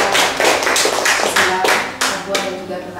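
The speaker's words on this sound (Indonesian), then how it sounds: "tepuk tangan dulu untuk Pak Puspa" An audience claps for Pak Puspa in loose, sharp bursts of applause that thin out toward the end, with a voice speaking over the clapping.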